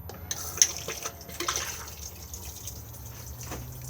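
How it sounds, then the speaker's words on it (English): A cassette toilet in a Swift Challenger 560 caravan flushes, giving a brief, soft rush and trickle of water with a few small drips, close by and fading out within seconds. "just slide the grey lever across and then push to flush on the top just here"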